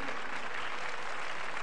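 An audience at a biology summer camp class claps steadily, a dense continuous patter of many hands close by with no break.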